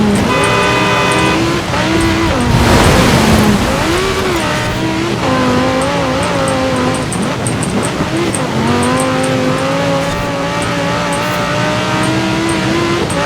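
A supercar races a snowy course in Forza Horizon 4, its engine roaring loud and near with rising and falling revs, gear shifts and brief tire noise throughout.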